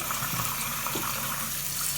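Water runs steadily from a tap into a sink while clothes are being washed by hand, a continuous even gush at moderate level with no talk over it.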